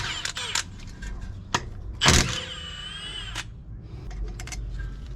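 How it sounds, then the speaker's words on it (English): A Milwaukee 2960 impact wrench with a 14 mm socket spins out caliper slide pin bolts on the front brakes of a 2014 Honda Odyssey. A sharp hammering burst is followed by a rising whine, close up, with clicks and tool handling around it. "I'm just going to use this little impact. This is the 2960 Milwaukee with a 14 millimeter socket."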